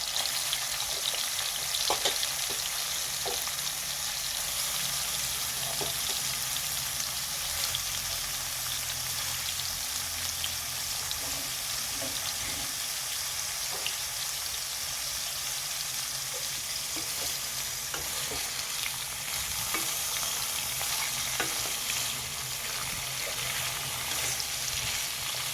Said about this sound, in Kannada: ಚೆನ್ನಾಗಿ ಎಣ್ಣೆಯಲ್ಲಿ ಹಾಗಲಕಾಯಿ ಫ್ರೈ ಆಗಬೇಕು.